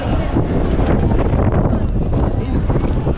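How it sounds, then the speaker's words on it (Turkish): Strong gusty wind buffets the microphone with a constant low roar, drowning out detail, at a fishing village in Bagamoyo, Tanzania. "Bayağı da rüzgarlı bir hava var"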